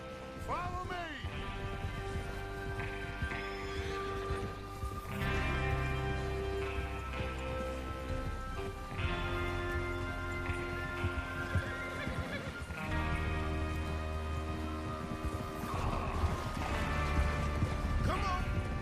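Horses whinny and hooves clatter amid a busy, music-backed Red Dead Redemption 2 game soundscape, with occasional crashes and mechanical clanks.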